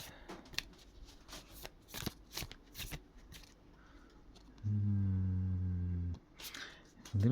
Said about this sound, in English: let's pull the cards